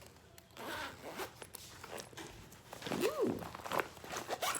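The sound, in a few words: zipper on a lunch bag being opened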